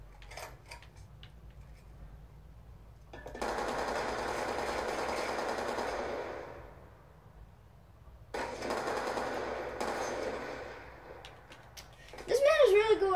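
Machine gun fire in a video game, two long sustained bursts of rapid rattling shots separated by quieter gaps, with a few short clicks at the start and a voice talking near the end.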